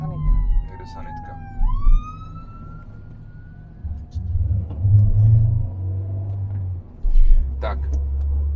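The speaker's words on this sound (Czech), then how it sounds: "teďka musíme přerušit, protože jede... Sanitka. Jede sanitka." An ambulance siren passes by on a city street, heard as a rising and falling wail at the start that fades out, followed by low traffic rumble and passing vehicles.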